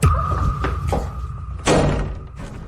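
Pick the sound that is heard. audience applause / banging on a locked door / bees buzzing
banging on a locked door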